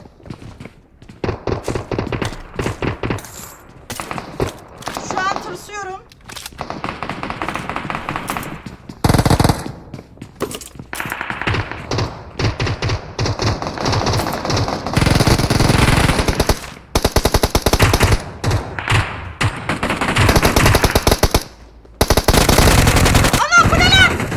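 Loud bursts of automatic gunfire from the battle royale game PUBG Mobile rattle in repeated volleys throughout, close and punchy, with a player's voice speaking between the shots.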